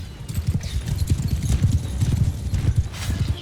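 Horses gallop in the Mount and Blade II Bannerlord battle game, a dense rapid clatter of hooves that runs loud and continuous throughout, with a faint whinny mixed in.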